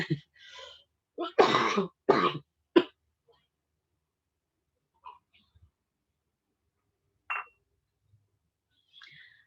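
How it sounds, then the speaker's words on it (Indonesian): A few short, harsh coughs and throat clearings close to the microphone, clustered together, then scattered faint noises in near silence. "saya agak batuk sedikit"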